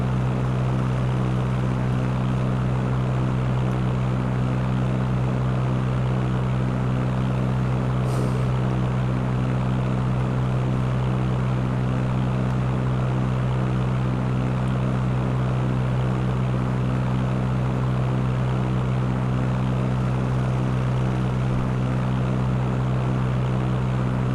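Steady droning propeller aircraft engine from the Fly!2K flight simulator game, a constant low hum sustained unchanged throughout with no talking, on a flight from Willard to Peoria.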